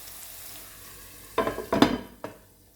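Chopped onions sweat and sizzle in a covered pan, with a few loud bursts of stirring and lid or pan clatter in the middle and a soft steady hiss around them.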